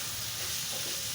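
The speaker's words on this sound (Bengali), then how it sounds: "উস্তটাকে ভালোভাবে ভেজে নিব।" Bitter gourd frying in a pan with egg and shrimp, a close, steady sizzle and hiss with soft stirring underneath, continuous with no talking.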